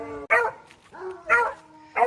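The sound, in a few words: dogs howling and barking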